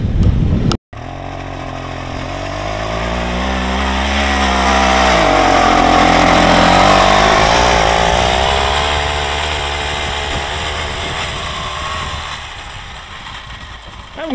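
Krot motor cultivator converted for winter use, its small engine running loud and close outdoors in the cold, a steady buzzing drone that briefly cuts out at the start, then rises and falls in pitch as it revs.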